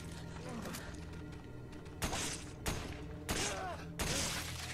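Four sharp gunshots spaced about a second apart in the video game Resident Evil 5, each a distinct crack over a low steady background hum.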